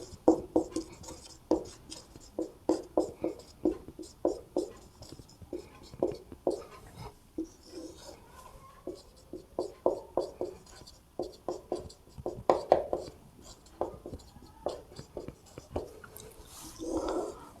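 A pen on paper while a maths formula is written out, giving a long run of quick, rhythmic scratching strokes that are close and moderately loud, with faint talk in places.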